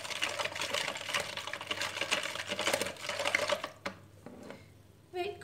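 A yeast and sugar mixture being stirred briskly in a container, a fast scraping, rattling whirr that runs steadily, then stops abruptly near four seconds, followed by quieter clinks and a faint tonal sound at the end.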